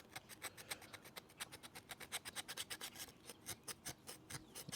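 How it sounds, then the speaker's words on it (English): Rust being descaled from old power equipment makes a rhythmic rasping scrape, with fast, even back-and-forth strokes repeating steadily at close range and moderate to quiet loudness. "Just trying to descale a lot of the rust off of this thing."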